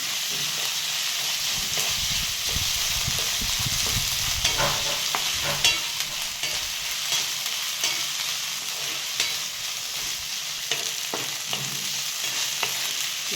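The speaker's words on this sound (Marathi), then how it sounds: "छान आपला कांदा असा परतत आला आहे." Chopped onion fries with ginger-garlic paste in a pan, giving a continuous close sizzle and hiss with occasional scrapes and taps of stirring.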